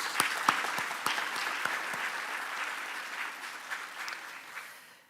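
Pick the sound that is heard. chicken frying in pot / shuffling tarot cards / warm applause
warm applause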